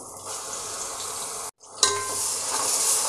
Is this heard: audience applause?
no